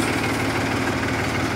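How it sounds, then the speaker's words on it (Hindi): A Mahindra 265 DI tractor engine idles steadily up close, a continuous low diesel rumble with even vibration and no speech over it. "ये मैं ट्रैक्टर दिखाता हूँ आपको"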